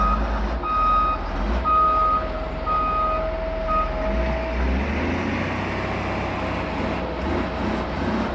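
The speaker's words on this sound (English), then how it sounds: "So the excavator is able to pile it back." Construction machinery working at a house-build site while backfilling around a septic tank, with a truck-like engine rumbling throughout and a series of repeated reversing beeps in the first few seconds, loud and close.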